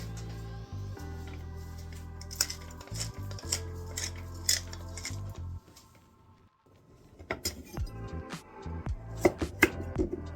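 Knife chopping kalabasa squash on a board for ginataang kalabasa at sitaw, with repeated close knocks of blade on wood, a clatter of cutlery and dishes and a brief quiet pause partway through.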